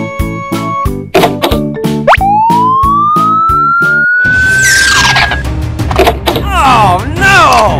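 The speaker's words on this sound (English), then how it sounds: "Police car." A police car siren wails with a rising tone amid cartoonish rhythmic thumps and boings in a children's cartoon, then voices and clatter take over near the end.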